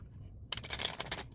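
A divination card deck is riffled and bridged by hand, giving one brief burst of crisp fluttering card flicks, close up, over a low background hum.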